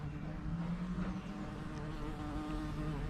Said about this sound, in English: is a bumblebee.